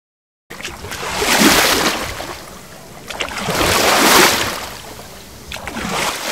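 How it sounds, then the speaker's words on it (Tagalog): Ocean waves washing onto a seashore, hissing surges that swell and recede in slow cycles about every three seconds, fairly close and steady with no voices. "Tama, ito ay alon sa tabing dagat."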